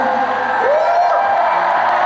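Packed concert crowd in Seoul at the close of the show roars in sustained, loud cheering, with high squeals and whoops rising above a constant wall of crowd noise.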